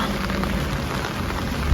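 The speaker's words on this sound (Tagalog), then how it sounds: "Umuulan dito ngayon pero hindi naman malamig." Steady rain falls in Attendorn, a dense even patter spread across the whole stretch with no voices, and a single brief louder thump near the end.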